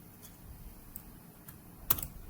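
A few quiet keystrokes on a computer keyboard, scattered soft clicks capped by a sharper double tap near the end, like a Ctrl X shortcut.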